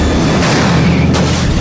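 Car bomb detonating in a film scene: a loud, dense boom that fills the whole moment with roaring, rumbling noise and no voices.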